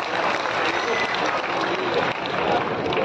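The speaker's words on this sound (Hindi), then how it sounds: "एक बार जोरदार तालियां होनी चाहिए" Loud, dense audience applause fills a comedy poetry show (hasya kavi sammelan) at the Madhubani festival, a steady roar of clapping from a large crowd without a break.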